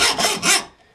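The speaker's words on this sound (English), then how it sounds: "I find a block and just a hacksaw. I'm going just below where the bend is." A hacksaw cuts through a small scrap-wood awl blank just below the bend, making three quick raspy back-and-forth strokes, loud and close, with no talking.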